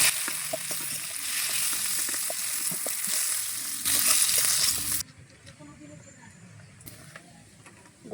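Cauliflower florets sizzling in hot oil for Bengali egg khichuri, a loud steady crackle with occasional stirring clinks that cuts off abruptly into a quieter, fainter kitchen background.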